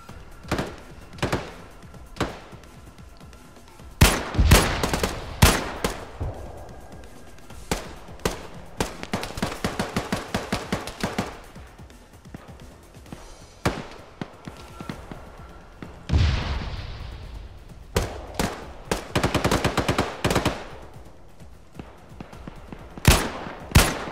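Sniper and rifle fire in ArmA 3 during an urban clearing fight: loud single shots and rapid bursts, some close and booming, others thinner and distant, spread irregularly over a long stretch with quiet gaps between.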